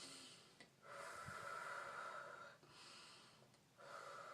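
A woman imitates labor breathing, drawing air in through her nose and pushing it out through her mouth in slow, audible cycles, close and soft, with no talking.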